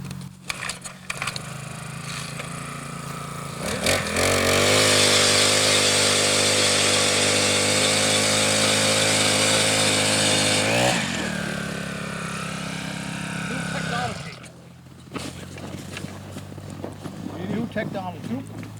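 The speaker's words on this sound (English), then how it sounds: "So this is just an Eskimo propane auger." An Eskimo propane ice auger drilling through lake ice in winter, a loud close engine roar that spins up, holds steady for several seconds, dips, then winds down, with people talking around it before and after.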